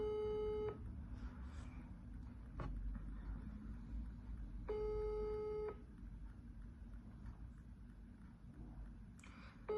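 A telephone line tone sounds during a redial: two short bursts of a steady, buzzy multi-tone signal, each lasting under a second and a few seconds apart, over a low background hum, with no talking.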